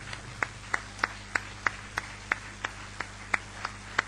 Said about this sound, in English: Keep on applauding for all the awardees.